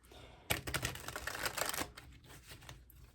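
A thick deck of 120 oracle cards is being shuffled, giving a quiet, rapid burst of papery riffling clicks that stops short and leaves softer scattered taps, with no voice over it.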